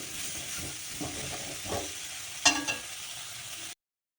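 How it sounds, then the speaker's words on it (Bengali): Cauliflower seasoned with turmeric and salt fries in a pan, giving a steady close sizzle with a few louder crackles and pops partway through before it cuts off. "ওদিকে আমি ফুলকপি ভাজা বসিয়ে দিয়েছি"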